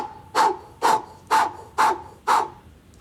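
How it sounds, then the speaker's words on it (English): Five strong puffed breaths pushed through a rounded mouth, evenly spaced about half a second apart, each a loud breathy burst with a faint whistling tone, close and alone with no talk. "we're gonna breathe through a rounded mouth with a strong puffing"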